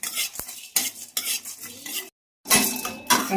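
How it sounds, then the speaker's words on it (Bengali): A spoon scrapes and stirs ingredients dry-roasting in a wok with no oil, close and steady with short gaps, metal on metal alone without talk. "কড়াইতে এরকম শুধু নেড়ে নেড়ে এগুলোকে আমি শুকনো খোলায় ভেজে নেব"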